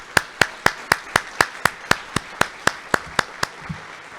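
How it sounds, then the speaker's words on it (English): A single person clapping steadily and evenly, about fifteen sharp claps fading slightly toward the end, close and alone, for graduates at a social work pinning ceremony in a university hall. "applause for our graduates in the room and online"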